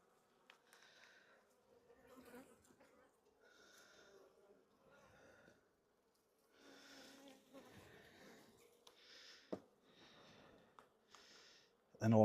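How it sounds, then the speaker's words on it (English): Honey bees buzz in quiet bursts around an opened hive in an apiary in April, faint intermittent drones rising and fading over about twelve seconds, with a louder noise at the very end. "As you can see, they are"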